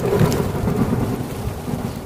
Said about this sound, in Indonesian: hujan yang ditunggu untuk reda nyatanya tidak juga reda